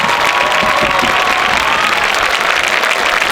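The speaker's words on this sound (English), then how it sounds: "So let's give our administrators, our Fine Arts Director Mark Kinzer, and everybody that's helped support fine arts a big round of applause." Loud, dense applause from an audience at a county school band expo, continuous and close, with a few cheers mixed into the sustained clapping.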